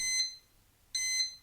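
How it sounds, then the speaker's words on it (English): An electronic alarm clock rings in two short bursts of bright, high beeping separated by a brief gap, clear and close. "turned off the alarm and rolled off the bed"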